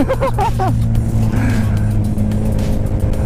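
A 2008 Suzuki Hayabusa sport motorcycle roars past at speed, a loud, steady engine drone with wind rush close to the rider, with a few rising engine tones at the start.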